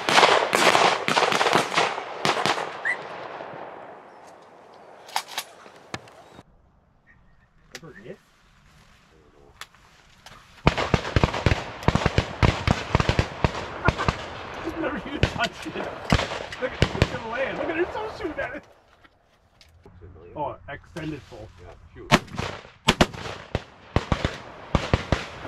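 Shotguns fire at quail released from a tower during a 200-bird tower shoot, with rapid clusters of loud, sharp blasts separated by brief lulls and voices calling out between volleys.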